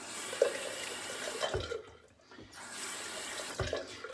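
Water runs from a tap to rinse after an old-school shave with Williams soap, a close, steady splash that briefly stops and then resumes, with small knocks.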